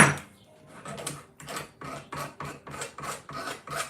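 An old metal file rasps over an edge of a modern corset part. After a short scrape come about ten steady back-and-forth strokes in an even rhythm, close and clear, with no speech.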